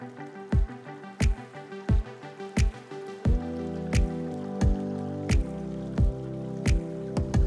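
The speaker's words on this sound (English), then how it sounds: "it's a little rainy and dark here" Light rain dripping outdoors at a Pacific Northwest cabin foundation site: sharp, close drops land in a steady, evenly spaced rhythm, with a low hum joining underneath partway through.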